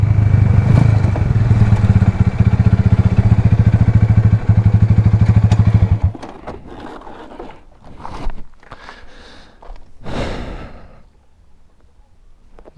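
A motorcycle rides fast through curvy hills, its loud, close engine droning steadily for about six seconds before cutting away to quieter rustling, clatter and wind buffeting.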